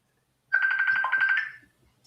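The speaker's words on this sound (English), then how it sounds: "Okay, I gotta turn the sound down on my phone." A phone ringtone sounds once, a bright electronic trill of rapid pulsing tones lasting about a second in an otherwise quiet room, close and clear.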